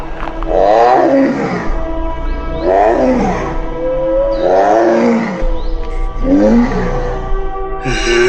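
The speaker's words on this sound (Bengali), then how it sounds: "এই যে বাঘের গর্জন। বাঘটা আশেপাশে কোথাও আছে" A cartoon tiger in the Sundarbans roars in four long, loud rising-and-falling bursts spaced about every two seconds, with no speech over them.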